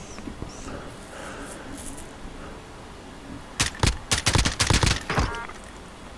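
Gunfire in Warzone gameplay, a few faint shots early, then a dense burst of loud rapid shots packed together over about two seconds.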